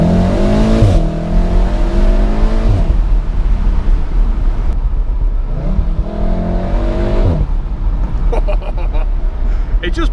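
A 2016 VW Golf R with DSG and 4Motion accelerating hard in race mode, engine revs climbing through repeated gear shifts, loud and close from inside the cabin, with a voice over part of it.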